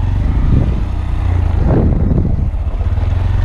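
A Honda Grom motorcycle rides offroad near a mud hole, its engine rumbling loudly and unevenly with revving surges throughout.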